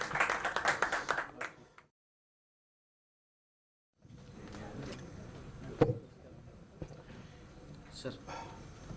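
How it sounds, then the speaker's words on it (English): Scattered clapping rises from the audience at a technology business event, a sparse patter of hands over murmuring voices. It breaks off into silence, then returns as lighter, uneven claps among room chatter. "So big round of applause for Seqrite."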